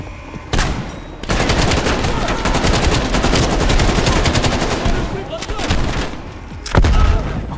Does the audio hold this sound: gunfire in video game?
yes